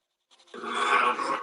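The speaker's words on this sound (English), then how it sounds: "That was my dog" A pet dog panting or huffing indoors, a breathy rasping burst that starts abruptly after a short silence and holds steady, fairly close to the listener.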